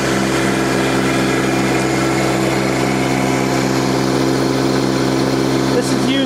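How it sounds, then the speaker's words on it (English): Land Pride SA20 post hole digger with a 9-inch auger on a Kubota B Series tractor, boring into dirt and clay; a steady, loud engine drone runs throughout with a constant churning hum. "This is using the 9-inch auger, going in dirt and clay."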